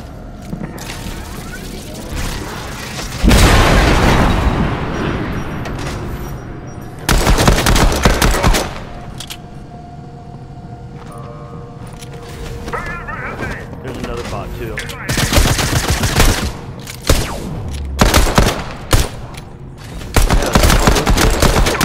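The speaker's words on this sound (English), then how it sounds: "There's somebody behind me shooting me." Gunfire in the video game Fortnite comes in repeated loud rapid bursts between quieter stretches, mixed with mechanical clicking and reload-like sounds while a player talks over it.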